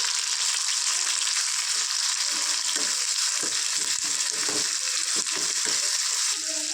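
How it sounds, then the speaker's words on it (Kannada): Onion and tomato fry in a pan, making a loud, dense, steady sizzle that holds for several seconds. Occasional soft scraping and stirring knocks sit underneath it, close up, with no talking. "ಟೊಮೆಟೊ ಫುಲ್ಲು ಸಾಫ್ಟ್ ಆಗೋವರೆಗೂ ಫ್ರೈ ಮಾಡ್ಕೋಬೇಕು"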